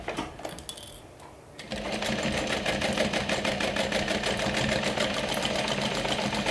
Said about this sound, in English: So I'm stitching along the previous stitch line as best as I can.